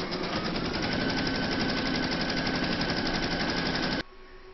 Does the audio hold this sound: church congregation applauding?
no